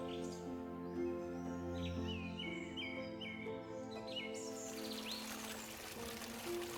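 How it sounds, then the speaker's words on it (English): Birds chirp and sing in repeated short phrases over a steady rush of rippling river water beside the Soča in Slovenia, with a faint musical drone underneath and no talking. "This peaceful setting lets the sound of rippling water merge with birdsong, forming an endless symphony of nature."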